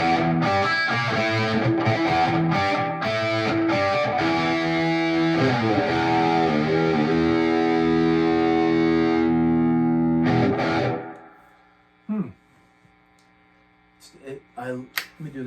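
Electric guitar with a natural ash body played without a strap through a distorted, effected amp, sustained chords and ringing notes for about ten seconds, then cut off to near silence with a few faint sounds at the end.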